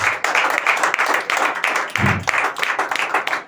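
A church congregation claps together in quick, loud, rhythmic bursts, many hands striking at once in a steady beat that carries on throughout.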